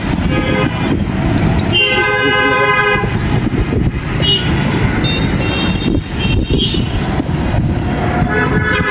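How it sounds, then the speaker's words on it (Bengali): A metro rail train passing in Dhaka, a loud sustained roar of wheels and motors with repeated tonal horn toots and electric whine over busy street noise, continuous throughout. "এটা হচ্ছে মেট্রো রেল"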